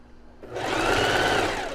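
A sewing machine runs a steady, loud stitching burst along the very edge of the fabric after a brief quiet start, humming continuously to the end with no talk.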